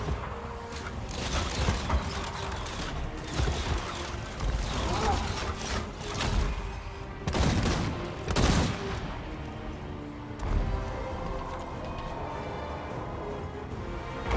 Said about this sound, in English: shoot them in the side with the Hellblast volley gun